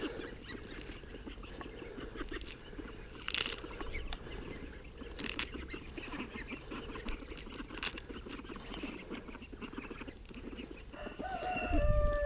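Chickens clucking and pecking at feed alongside ducks in a backyard poultry flock, a steady busy patter of scratching and soft clucks throughout, with a rooster's crow rising near the end.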